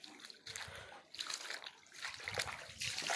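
Water is poured onto a newly built house wall for curing at a construction site, giving faint, intermittent splashing bursts that come and go several times.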